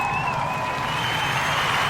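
An audience at a Kujichagulia toast celebration gives a short burst of applause, a dense, steady wash of clapping and crowd noise with a few cheers mixed in.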